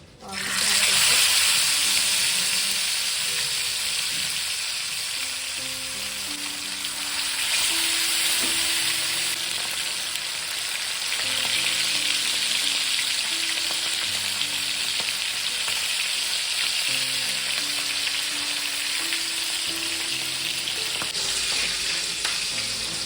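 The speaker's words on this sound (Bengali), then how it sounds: "এবার মাছটাকে তাওয়াতে ফ্রাই করে নেব।" Marinated pomfret fish fries on a tawa with a steady, loud, broadband sizzle that runs throughout, with faint clinks and utensil movement underneath and no speech.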